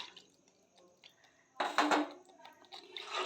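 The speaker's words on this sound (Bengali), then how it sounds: "দইয়ের বাটি ধোয়া জলটা আমি এখানে দিয়ে দিচ্ছি" Rinse water from a curd bowl is poured into a cooking pan for doi katla: a short, fairly loud splash in the middle, surrounded by quiet clinks of dishes and light drips.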